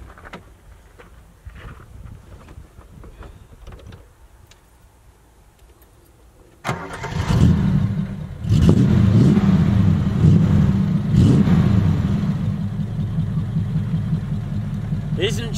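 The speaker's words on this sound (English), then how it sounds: "Now listen to this when I fire it up." After quiet ticking and a brief voice, a Triumph Stag engine cranks and catches at once, then settles into a loud, deep, steady burbling idle close by.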